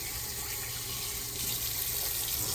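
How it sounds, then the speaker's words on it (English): Water runs steadily from a tap while conditioner is rinsed out of a child's curly hair, a continuous close hiss of flowing water with no talking. "You want to rinse this conditioner out"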